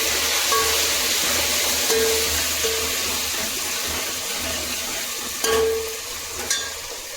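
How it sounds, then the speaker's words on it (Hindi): Chopped tomatoes tipped into a pan of sizzling onions, whole spices and black pepper, giving a steady loud frying hiss with stirring scrapes and a few sharp clinks near the end. "अब डाल दूँगी इसमें मैं जो टमाटर रख रखे काट के, ये डाल।"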